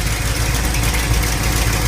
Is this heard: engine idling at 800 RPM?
yes